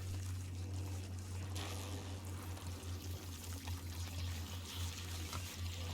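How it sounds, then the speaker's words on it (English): Water pours at feeding troughs in the video game The Outer Worlds, a continuous splashing rush and trickle over a low steady hum, moderately faint, with no talk. "I guess that's water."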